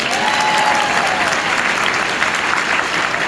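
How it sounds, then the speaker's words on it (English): Steady, dense audience applause for a volunteer at a lively teacher training session, a full room clapping continuously and fairly loud from start to finish. "Give her a round of applause."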